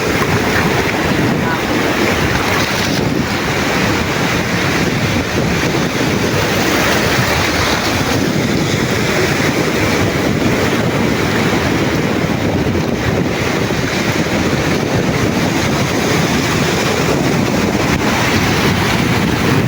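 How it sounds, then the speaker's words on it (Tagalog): Big ocean waves on the open sea, heard from aboard a small fishing boat out after skipjack, with a loud, steady wash of water and wind buffeting the microphone throughout. "Malaki ng alon."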